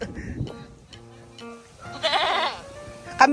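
A goat bleats once with a wavering cry, close by, among a few other faint animal calls.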